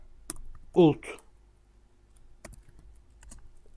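A computer keyboard is typed on while writing a Java program, ending with the Enter key, heard as a few close, crisp clicks spaced apart around a short burst of talking.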